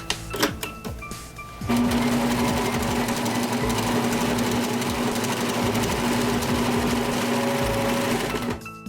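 A serger sewing machine finishes and trims a fabric seam edge, starting with a few short bursts and then settling into a loud, fast, steady whir that holds for several seconds before stopping.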